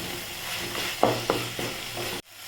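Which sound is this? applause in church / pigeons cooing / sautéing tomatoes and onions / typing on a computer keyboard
sautéing tomatoes and onions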